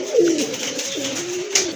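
A pair of pigeons offered for sale, one almond-coloured and one red, coo in a soft low rolling call close by, steady and alone with no speech.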